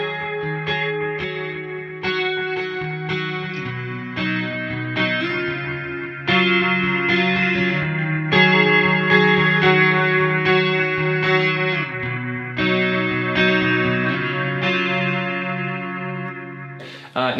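An electric guitar plays through a delay pedal on a beginner's pedalboard, picked notes and chords ringing out with trailing repeats and a chorused, slightly driven tone, loud and unaccompanied.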